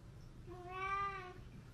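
A single drawn-out cat meow, clear and fairly close, rising and falling over about a second against a low background rumble.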